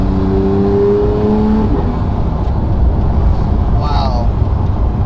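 A sports car accelerates hard with instant gear shifts, its engine roaring loudly from inside the cabin, the pitch rising and then dropping at a shift; a person talks excitedly over it.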